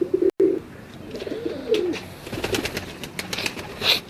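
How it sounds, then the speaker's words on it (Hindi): Pigeons coo in low, rolling phrases close by, several calls in the first half, followed by scattered lighter chirps and small rustling sounds. "ये फुल कबूतर आपकी स्क्रीन पर है"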